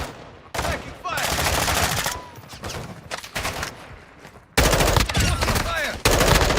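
Call of Duty DMZ gunfire in dense automatic bursts, loud and close, with rapid repeated shots in several long strings separated by brief gaps.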